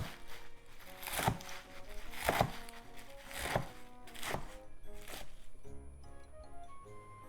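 A knife chops spinach into roughly two-inch pieces in a slow, steady rhythm, five or six distinct cuts landing on a board, heard close over quiet background music.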